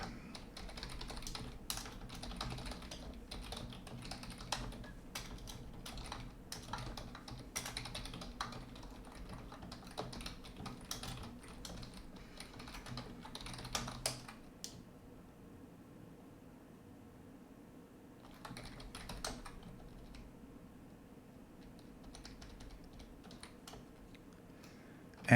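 Keyboard typing while writing code for a homemade programming language in Rust: steady bursts of close, fairly quiet key clicks with brief pauses, over a faint background hum and no talking.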